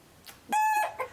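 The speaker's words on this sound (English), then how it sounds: "We have 9 hens." A hen in a backyard flock of nine gives a few short clucks followed by a drawn-out, tonal squawk, close by in a quiet setting.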